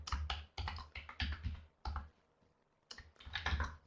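Computer keyboard typing heard up close: quick bursts of clattering keystrokes separated by short pauses, with a longer gap in the middle, and no talking.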